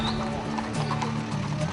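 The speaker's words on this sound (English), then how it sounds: "Look at horses." Horses at a busy outdoor horse fair, hooves clip-clopping steadily on hard ground with a whinny breaking through, set against a constant crowd murmur.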